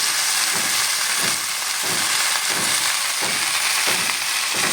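Mustard flowers and leaves frying in oil in a wok, giving a steady, loud broadband sizzle with soft periodic stirring swells, no talking.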